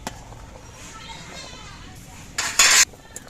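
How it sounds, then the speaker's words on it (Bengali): Sugar being stirred into milk with pitha in a cooking pot, a spoon scraping and clinking against the metal in a short burst near the end, over faint background voices. "চিনি দিয়ে নেড়ে চেড়ে মিশিয়ে নিচ্ছি"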